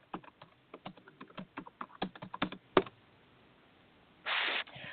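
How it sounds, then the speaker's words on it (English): Keys clatter on a computer keyboard in a quiet studio, with irregular bursts of taps and one sharp louder stroke, followed by a brief hiss of noise near the end. "I'm just typing"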